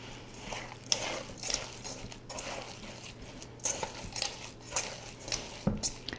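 Turkey meatball mixture with sea salt being mixed by hand, soft irregular squishing and patting with a few sharper clicks, close and fairly quiet, no talking.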